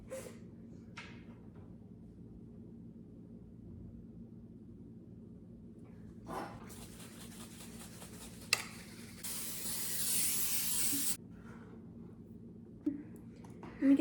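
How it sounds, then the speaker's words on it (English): Cooking spray hisses from an aerosol can into a glass baking pan in a home kitchen, a couple of short bursts followed by a longer steady spray of about two seconds, close and fairly loud. "Okay, let's spray it or put some paper in it first."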